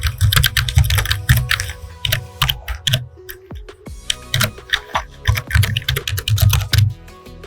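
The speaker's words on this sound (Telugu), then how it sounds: "మనం నేను టైప్ చేస్తున్నాను చూడండి." Typing on a computer keyboard while entering an email address to share a Google Meet link: quick, close, uneven bursts of key clicks with brief pauses, alone without talk.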